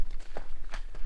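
Footsteps crunching along a leafy hiking trail at Grand Teton National Park, a few separate steps with leaf rustle over a steady low outdoor background.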